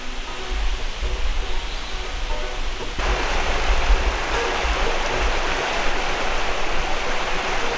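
Porter's Creek in the Smoky Mountains, running a little low, rushes steadily nearby as a broad continuous hiss, swelling slightly louder partway through, with no voices.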